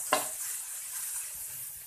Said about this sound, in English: So now I'm going to add in the garlic and the chili.